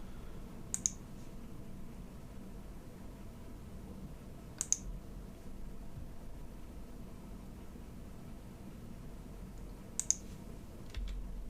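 A few sparse, sharp key clicks, spaced seconds apart, over a quiet steady hiss of room noise. No voices.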